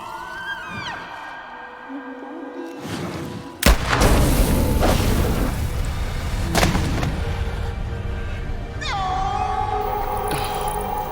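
A loud, sudden gunshot in the horror video game The Quarry cracks out and rings into a rumbling, reverberant tail, set among tense game music and sound effects with no clear talk.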